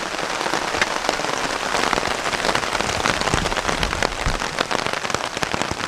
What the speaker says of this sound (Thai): ฝนอาจจะสาดนิดนึง แรงมากเลยทุกคน